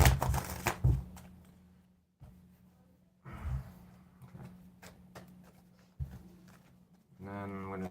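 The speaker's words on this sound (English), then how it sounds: "I am shuffling and splitting the decks, trying to keep them shuffled, rotating cards a little bit" A deck of playing cards is shuffled and split in short riffling bursts with quiet pauses between them, and a voice speaks at times.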